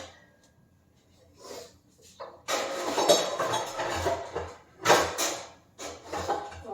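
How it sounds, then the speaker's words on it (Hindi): Metal kitchen dishes and utensils are set down and put away in a home kitchen, bursts of clinks, clatters and knocks coming in irregular clusters at close range, with no talk. "और पहले जो ये बर्तन है इनको मैं लगा दूंगी सही जगह पे।"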